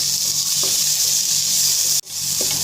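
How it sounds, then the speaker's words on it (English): Cumin seeds, tamarind, coriander and chili powders and tomato frying in a pan for an omelet curry: a loud, steady close sizzle with a brief stir or clatter near the end. "after that fry and add tomato."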